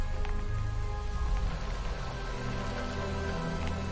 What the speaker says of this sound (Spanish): vuelve a llover